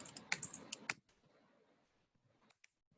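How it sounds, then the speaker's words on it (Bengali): Quick bursts of computer keyboard typing ending in a firm Enter press, close and clear, followed by quiet with a few faint clicks. "এন্টার দিলাম।"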